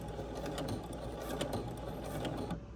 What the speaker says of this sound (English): Now I'm just gonna do a straight stitch on my sewing machine to finish off that hem